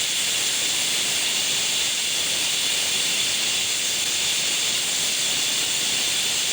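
A pressure cooker cooking dal khichdi on high flame lets out its second whistle, hissing loudly and steadily, a continuous high-pitched rush of escaping steam with no pauses.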